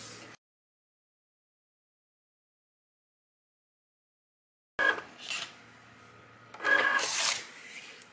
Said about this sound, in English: I'm going to use my little scraper to get off all the little bits to go into the trash can